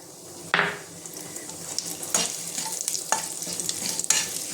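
Bay leaf and whole cumin dropped into hot oil, a sudden sharp burst of sizzling that settles into a steady crackle, with a few more spitting flare-ups and utensil clinks.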